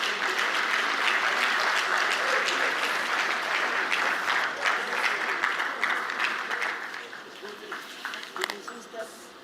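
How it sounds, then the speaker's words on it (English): A conference audience at the Afreximbank 2025 annual meetings applauds at a report launch, dense sustained clapping that fades toward the end, with faint talk underneath. "Round of applause, please."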